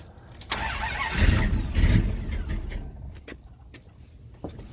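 A 1972 Dodge Dart's 318 small-block V8 with an Edelbrock carburetor cranks briefly, then catches and settles into a rough idle, heard close up with no talking.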